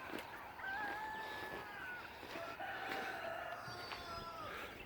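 Chickens on a farm beside a pepper field, with a rooster crowing in long drawn-out calls over soft clucking and outdoor background noise, heard at a moderate distance.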